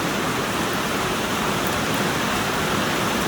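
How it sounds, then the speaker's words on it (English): Steady rain comes down as a dense, even hiss, loud and continuous, with no voices or other distinct sounds. "That doggone rain is coming down."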